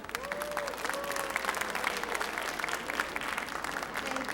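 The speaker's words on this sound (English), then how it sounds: "Please, can we have good amount of claps for this AV coming up?" Audience applause at a dance academy show, a steady, dense wash of clapping from a large crowd, sustained and fairly loud throughout with occasional brighter claps standing out.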